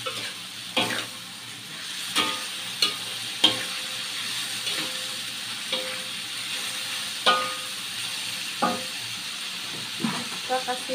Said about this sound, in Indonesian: Kalau kita aduk aduk,